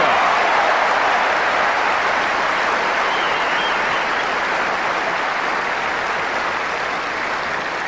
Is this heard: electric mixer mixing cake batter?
no